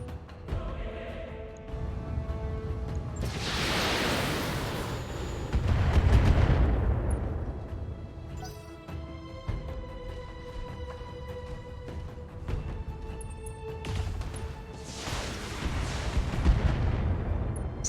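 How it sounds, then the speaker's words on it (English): Heavy weapon fire from battling mechs in BattleTech, with several loud booming bursts and rumbling impacts spread across the stretch, layered over a steady droning background. "So we'll opt for just a little bit of harassment fire."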